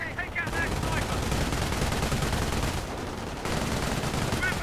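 An MG42 machine gun in a World War II strategy video game fires in dense, sustained bursts against a busy battle din of gunfire and explosions, loud throughout with a short lull near the end.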